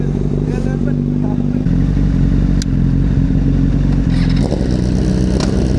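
A Honda CBR1000RR motorcycle engine idles steadily and loud at close range, a dense low rumble throughout with faint voices underneath.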